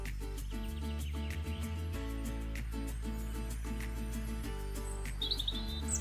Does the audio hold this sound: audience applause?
no